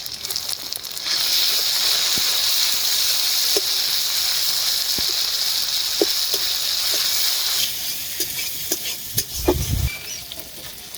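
Ginger, garlic and green chili paste goes into onions already fried red, bringing a loud bright sizzle that then settles, with scraping stirs and spoon knocks against the pan toward the end and no voices.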